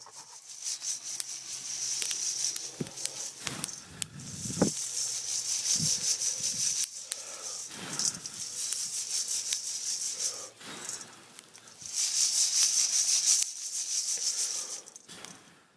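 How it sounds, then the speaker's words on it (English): Freshly roasted coffee beans are dechaffed by blowing across them, giving faint breathy rushing gusts with light rustling and occasional small clicks and taps, repeating in bursts over a quiet background. "That sound you hear is me blowing the chaff off the top of the beans"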